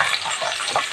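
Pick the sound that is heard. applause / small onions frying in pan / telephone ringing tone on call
small onions frying in pan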